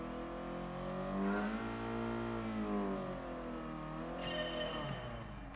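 Simulated car engine in Gran Turismo Sport climbs steadily in pitch through a loud, sustained acceleration, eases briefly, then revs again, with the harmonic whine continuous and close throughout.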